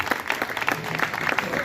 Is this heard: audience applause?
yes